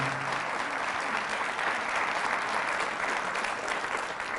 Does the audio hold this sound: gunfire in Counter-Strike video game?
no